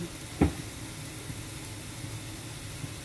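Potato and eggplant frying together in a pan, a steady soft sizzle with one sharp clatter near the start.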